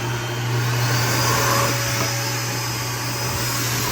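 A powerful high-velocity pet blower dryer roars at full power, a loud steady whoosh with a constant motor hum underneath, running without pause.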